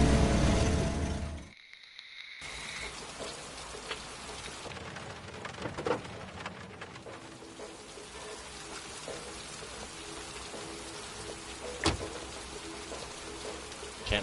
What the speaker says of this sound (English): Let's bring in the musical sting and the loud cacophony of rain.